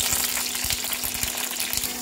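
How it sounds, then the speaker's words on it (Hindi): Green chillies frying and sizzling in a pan of oil while making carrot and tomato chutney, a steady close crackle with brisk popping spatters and no voices. "हरी मिर्च को डाल के थोड़ा कवर कर देंगे, ये फूटने लगता है, ये फ्राई होते ही"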